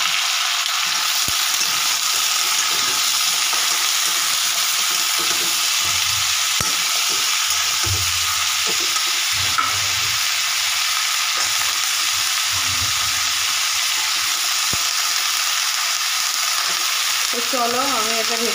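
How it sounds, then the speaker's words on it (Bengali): Radish stir-fries with shrimp and potatoes in a pan for a Bengali curry, a loud continuous hissing sizzle with intermittent scraping and stirring strokes throughout. "মুলোটা দিয়ে দিলাম, এবার দিয়ে ভালো করে ভেজে নেবো"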